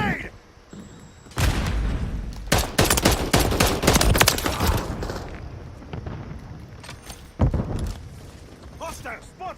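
Bursts of rapid gunfire and booming shots from a military shooter video game, loud and dense in the middle with scattered shots after, voices calling out over the combat.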